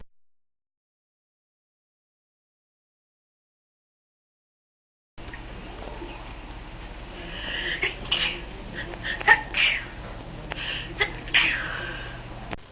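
After about five seconds of silence, a person sneezes with sharp gasping breaths and snorts in a cluster of bursts, close and fairly faint.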